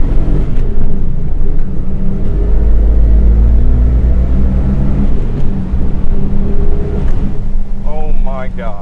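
A turbocharged 1988 BMW E24 635CSi accelerates hard from second gear, its engine a loud, deep rising rumble heard from inside the car, with a voice reacting near the end.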